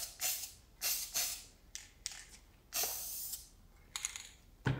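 Spray paint hissing in short bursts as another coat goes onto a wood sign, several close, loud sprays of varying length with quiet pauses between and a sharp clatter at the end.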